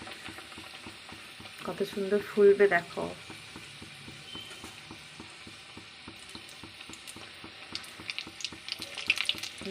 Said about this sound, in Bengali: ভাজা চলছে, আর এই যে একটা ভাজা হয়ে গেছে